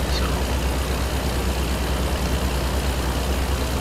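A heavy truck engine in American Truck Simulator, hauling a 43-tonne milling machine on the road from Moncton to Halifax, gives a steady, loud low rumble with no audible gear changes.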